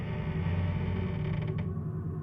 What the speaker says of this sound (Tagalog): narinig ko yung paglangit-ngit ng pinto na unti-unting